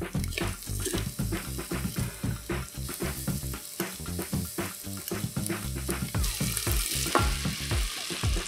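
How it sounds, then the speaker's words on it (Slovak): Onion, potatoes and oyster mushrooms fry in hot oil in a pot for a buckwheat soup, a steady close crackling sizzle broken by frequent scraping and clattering stirs. "Najprv si na oleji orestujeme cibuľku, potom postupne pridáme zemiaky a hlivu."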